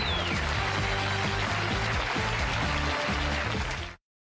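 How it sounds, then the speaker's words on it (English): Studio audience applause on a talk show, steady dense clapping from a large crowd that runs unbroken, with a faint musical tone underneath, before cutting off abruptly. "I'm humbled by that applause."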